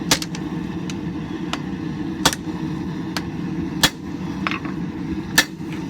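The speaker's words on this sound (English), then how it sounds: "So, now I'm just going to do a set down to mark out all the material I want to use for the blade" A blacksmith forges hot steel for a camp knife blade, hammering a set down on the anvil. Sharp, ringing hammer blows land several times at irregular intervals over a constant background hum.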